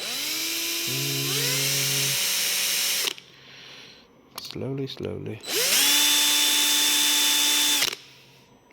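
Power drill with a 2mm bit boring into an Egyptian-style dagger: two long, loud, close whirring runs whose whine climbs as the motor spins up, separated by a pause with a few short spurts. A voice speaks briefly.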